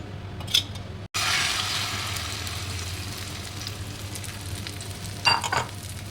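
Beaten egg mixed with onion fries in sesame oil in a pan, giving a steady, close hiss that starts after a brief clink and continues evenly, with a few faint clicks near the end.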